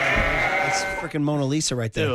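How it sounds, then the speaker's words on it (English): Goats on a small farm north of San Francisco let out a drawn-out bleat in the background, then someone talks loudly over the scene. "the way he lays out so you could hear the goats in the background"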